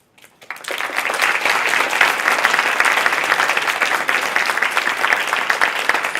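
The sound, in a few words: audience applause at panel discussion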